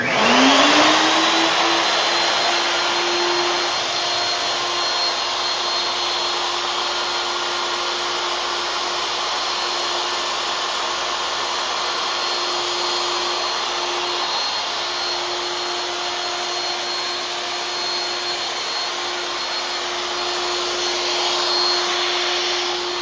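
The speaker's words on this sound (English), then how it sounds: "the CNC will start spinning and it'll start actually cutting" A Techno CNC router spins up with a rising whine and settles into a loud, steady high-pitched spindle drone with cutting noise, running continuously and close with no voices.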